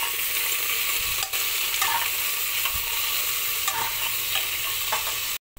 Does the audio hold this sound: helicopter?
no